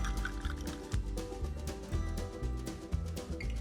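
Water and ice poured into a big cup of homemade lemonade with honey, lemon, lime and fresh mint, a quiet steady pour with small clinks, set under lively background music.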